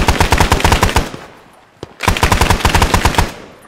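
A machine gun fires suppressing bursts in the video game SOG Prairie Fire. Two loud, rapid automatic bursts are split by a short pause with a single distant shot.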